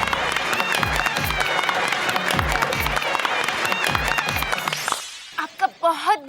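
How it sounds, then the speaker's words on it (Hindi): An audience applauds on a Hindi comedy courtroom show, with dense, loud clapping mixed with rhythmic music hits that ends abruptly, followed by a brief voice. "तालियां।"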